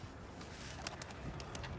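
A tumbler pigeon gives a short soft coo close by, over a faint low background hum, with a few light rustles.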